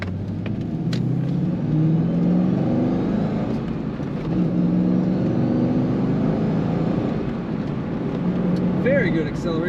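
A 2001 Chevrolet Corvette convertible accelerates along the road, its engine rumble rising and holding steady up to moderate revs with strong pull, heard from inside the cabin with some speech-like sound over it.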